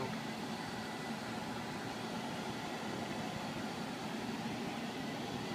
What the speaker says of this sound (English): this is the sound of the fan working